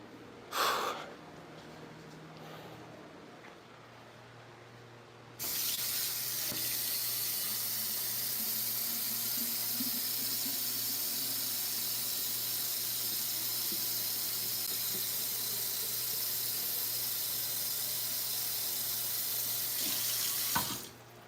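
Water rushes steadily into a fish tank from a running tap, a loud, continuous hiss and splash that starts abruptly after a few quiet seconds and holds evenly until it cuts off.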